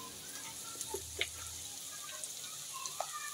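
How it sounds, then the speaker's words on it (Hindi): Potatoes and onions, lightly browned, sizzle steadily in hot oil as ginger-garlic paste goes into the pan, with a continuous bright frying hiss and a few soft stirring clinks. "हमारे आलू प्याज जो थोड़ा सा ब्राउन हुआ, अब हम इसमें डालते हैं अदरक लहसुन का पेस्ट।"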